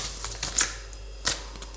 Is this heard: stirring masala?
no